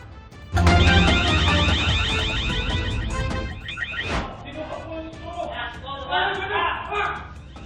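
A warehouse alarm in Punta Santa Ana, Manila, rings loudly and steadily in the early morning, a harsh continuous electronic tone that cuts off abruptly and gives way to talking voices.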